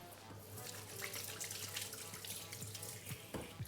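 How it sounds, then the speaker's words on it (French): Tap water streams steadily into a sink while hands are washed and rinsed, a soft continuous splash with a few brief splatters near the end, no talking. "Je vais me laver un coup les mains,"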